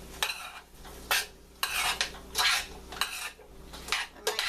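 A spoon scrapes and clanks against a pan while stirring a seasoned salmon cobbler mixture, in a rhythmic run of close, fairly loud strokes, with no voices.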